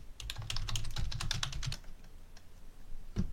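Quick typing on a computer keyboard, a close burst of light rapid key clicks that stops midway, followed by near quiet and one final keystroke.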